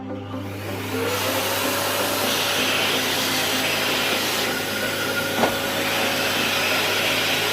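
A Polti Unico steam cleaner vacuum switches on about a second in and runs at a steady, close, loud hum with a constant motor whine, and no voices over it.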